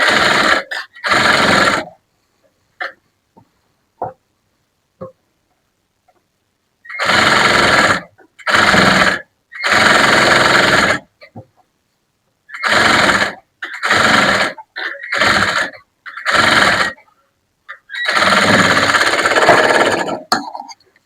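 A sewing machine stitches a blouse in short loud runs of about a second each, separated by quiet pauses, with no one talking.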